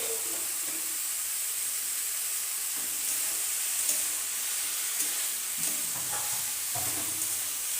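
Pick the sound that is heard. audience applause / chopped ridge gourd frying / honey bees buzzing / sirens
chopped ridge gourd frying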